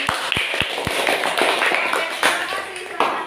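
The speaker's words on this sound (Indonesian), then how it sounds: "Tepuk tangan dong untuk kelompoknya." Classroom applause for a student group presenting, a burst of many hands clapping steadily and fairly loudly throughout, with a few sharp taps at the start.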